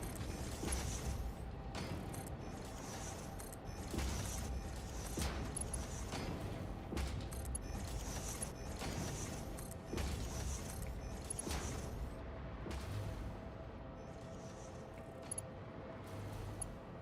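Steady mechanical whirring and rhythmic clanking from a constructor machine in an aluminum factory video game, a continuous busy drone with repeating short clicks and pulses running throughout, no voices.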